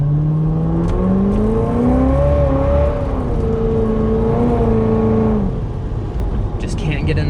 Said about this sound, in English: just can't get enough of that wheel spinning action